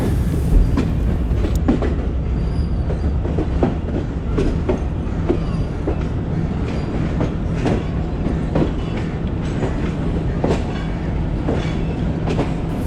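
A Pakistani express passenger train runs on the ML1 line, its rumble loud and near, with a steady rhythmic clickety-clack of wheels over rail joints throughout.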